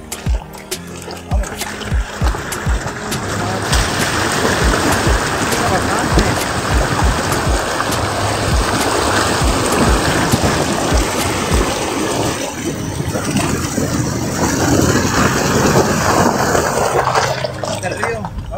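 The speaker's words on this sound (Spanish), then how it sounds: "Vamos a cruzar el río." Steady splashing and sloshing of water as someone wades through a river, with flowing water throughout and occasional voices.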